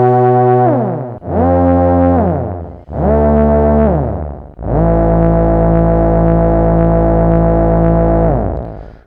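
Korg Monologue synthesizer shaped by its envelope generator: three short swooping notes with sweeping harmonics, then one long sustained note that slowly fades, loud and alone.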